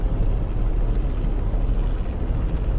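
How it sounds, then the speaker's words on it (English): Steady low rumbling drone of a distant helicopter in a truck-driving video game, continuous and fairly loud with no voices over it. "Helicopter somewhere I can hear?"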